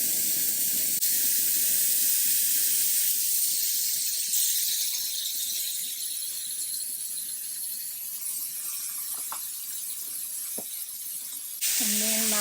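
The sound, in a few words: bacon pieces sizzling in a pan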